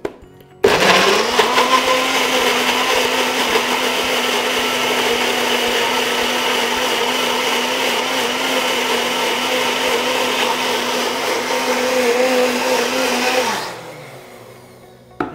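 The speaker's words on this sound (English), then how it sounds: "And we're going to blend that until smooth." Countertop blender blending mango until smooth: a loud, steady motor whir starts abruptly, holds for about thirteen seconds, then winds down and stops.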